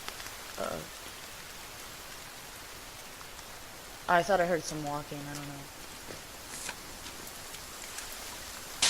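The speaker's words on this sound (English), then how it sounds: "the rain does wash it away" Rain falls steadily in the survival video game The Forest, a constant soft hiss of drops at moderate loudness running under a brief stretch of someone talking.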